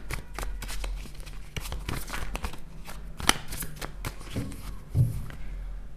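Tarot cards shuffled by hand, a steady papery riffle and flutter with soft taps and one sharp slap, close and fairly quiet, with no talking.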